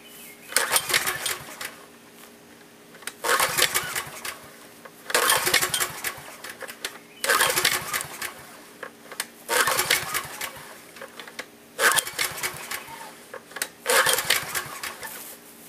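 A portable generator engine being pull-started with repeated recoil cord pulls, six rough bursts of cranking noise spaced about two seconds apart, close and fairly loud, never catching into a steady run.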